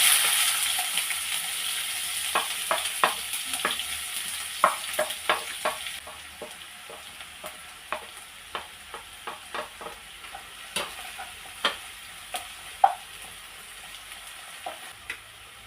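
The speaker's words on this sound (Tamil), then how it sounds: "இப்போ நம்ம இதை தாளிச்சிக்கலாம்" Chopped onion, green chili and curry leaves fry in hot oil for tempering, a soft steady sizzle with a spoon stirring and scraping the pan in irregular close taps.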